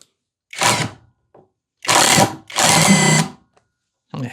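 A Hanabi impact driver drives a 1/4-inch by 100 mm screw deep into wood in three loud bursts of whirring and hammering, the middle two long and close together, with short gaps of quiet between them.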